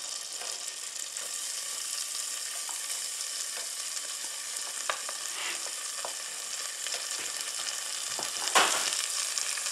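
Shallots fry in melted butter over medium-high heat, giving a steady close sizzle and crackle with occasional sharper pops and scrapes near the end, and no voices.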